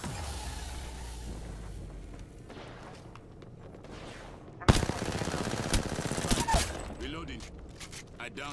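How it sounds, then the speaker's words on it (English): Enemy squad gunfire in a shooter video game breaks out as a sudden loud burst of rapid automatic shots and booms, following quieter game ambience, with voices talking over the fight. "A second squad is firing at us."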